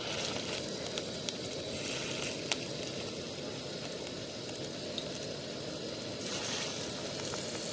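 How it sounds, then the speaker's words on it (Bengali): Radish pakoras fry in a pan of hot oil with a continuous, fairly loud bubbling sizzle and scattered small pops, steady throughout. "এইভাবে যদি পকোড়া ভাজা যায় না মূলার পকোড়া"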